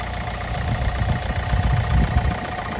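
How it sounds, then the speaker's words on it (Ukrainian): A Hyundai ix CRDi diesel car engine idling steadily with a low, even rumble and faint mechanical chatter, continuous throughout. "Прислухайтесь, як працює двигун."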